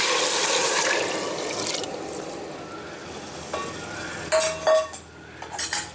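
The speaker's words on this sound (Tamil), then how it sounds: "நான் இப்போ தண்ணி ஊற்றிடுறேன்." Water streams into a cooking pot for a few seconds while making pongal, followed by a couple of metallic clinks and scraping of a utensil against cookware, close by.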